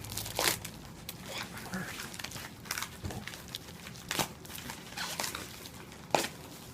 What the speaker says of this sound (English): Unwrapping goes on.